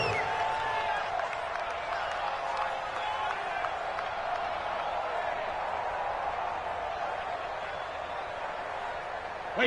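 A stadium crowd at an American football game roars steadily before a big third-down play, with sustained cheering and applause filling the whole stretch at a distance.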